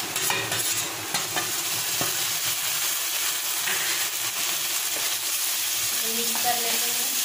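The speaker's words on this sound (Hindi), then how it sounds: "अब इसमें डालेंगे अदरक मिर्ची और लहसुन का पेस्ट।" Ginger, chili and garlic paste fries in a hot pan for a paneer posto dish, making a loud, steady sizzle close by with stirring scrapes mixed through it.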